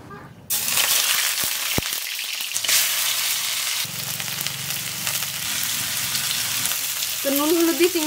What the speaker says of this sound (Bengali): তো নুন হলুদ দিয়ে চিংড়ি মাছগুলো ভাজা হয়ে গেছে